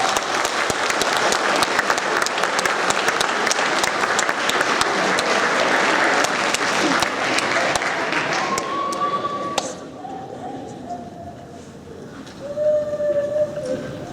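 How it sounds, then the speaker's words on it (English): A school audience gives sustained applause for 8th grade award recipients at a year-end awards event. Dense clapping runs for about nine seconds, then drops to scattered claps with murmured talk. "let's give them one more round of applause"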